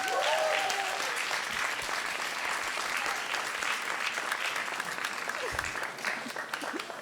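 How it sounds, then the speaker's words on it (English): An audience applauds the panelists at a panel on women in the tattoo industry, with steady, dense clapping holding across the whole stretch and a faint voice near the start. "Let's just give them another round of applause."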